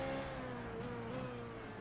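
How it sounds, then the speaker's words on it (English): Race car engine in a racing video game just after a short upshift into fourth gear, a faint steady drone holding even revs for under two seconds. "Short change up to 4th gear."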